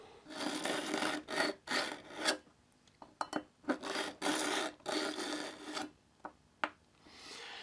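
A knife is drawn through a Pocket Pal sharpener with light pressure, making repeated close, gritty rasping strokes in an irregular rhythm with short pauses and small clicks between them.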